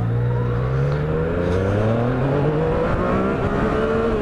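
A Yamaha MT-09 with its 900cc three-cylinder engine accelerating, loud and close, its note rising steadily through a gear with wind rush behind it and no talk.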